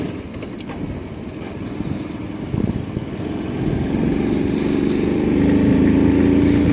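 A Honda C90 motorcycle fitted with a Lifan 110 engine pulls away in third gear, its small engine rising from a low idle into a steadily louder, building drone close by.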